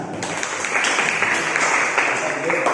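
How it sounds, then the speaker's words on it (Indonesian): Classroom applause for a student in a plane-mirror physics lesson, steady dense clapping from a group of students throughout, fairly loud and close. "Ya, tepuk tangan untuk Bang Chandra."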